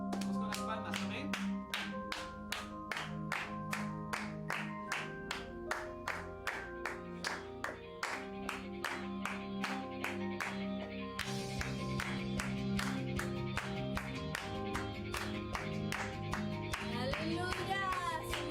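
A congregation at an online church service clapping hands in a steady, regular rhythm along with music, each clap sharp and evenly spaced over sustained instrumental tones, with a voice occasionally singing or speaking.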